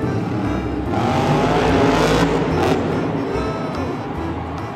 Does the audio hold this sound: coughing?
no